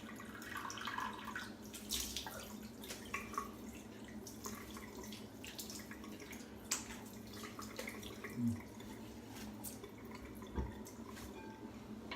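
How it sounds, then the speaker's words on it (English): A tap runs while a shaving bowl and an alum block are rinsed at a sink. The water gives a soft, steady splash and trickle with scattered drips and small knocks, quiet and close. "I need to rinse this stuff off."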